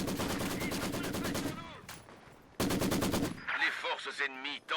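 Machine guns in the video game Company of Heroes 2 fire two loud, rapid, rhythmic bursts separated by a short pause. Game voices and effects follow each burst.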